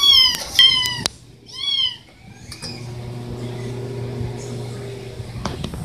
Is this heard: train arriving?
no